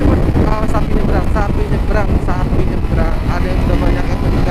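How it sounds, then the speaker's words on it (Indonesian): Strong wind buffets the microphone while riding a motorbike on a road trip from Manado to Lolak, a steady loud rumbling roar running throughout with someone talking over it. "Anginnya kenceng banget."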